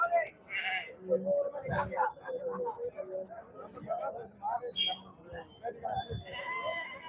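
Sheep and goats bleat repeatedly nearby amid a busy outdoor crowd at the Ettayapuram Friday goat market, with voices chattering around the animals.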